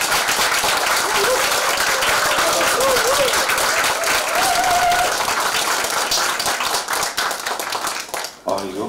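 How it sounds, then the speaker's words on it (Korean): An audience at a lecture gives warm applause to welcome a speaker onto the stage, loud dense clapping throughout with whoops and cheering voices rising over it, tapering off at the very end. "뜨거운 박수로 모시겠습니다."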